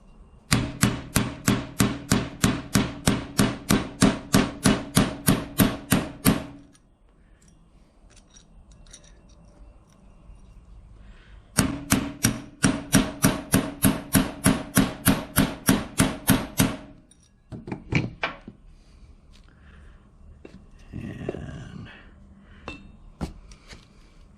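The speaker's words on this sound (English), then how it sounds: "you got to knock your roll pin out" A hammer drives a punch against the roll pin in a Dana 30 differential: two bursts of rapid, evenly spaced metallic blows, each lasting about six seconds, loud and close, separated by quiet stretches and followed by a few scattered knocks and light handling noise.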